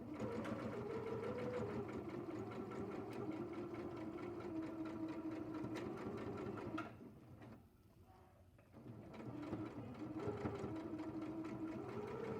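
A sewing machine stitches a folded fabric hem with a steady, close mechanical whir, briefly stopping partway before running again.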